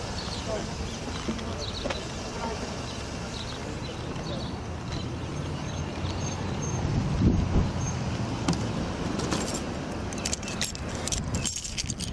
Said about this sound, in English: Where's the keys to this car?